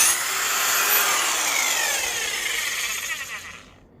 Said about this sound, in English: Let's see what she does. Forward. Ooh, she's got some horsepower to her.